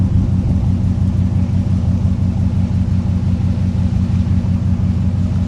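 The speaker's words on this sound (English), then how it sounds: "They're backing a Ram out right now, so if you hear some V8 sounds" Deep, steady low rumble of a prototype Ram truck's V8 engine idling and creeping in reverse nearby, holding an even, throaty tone for the whole stretch.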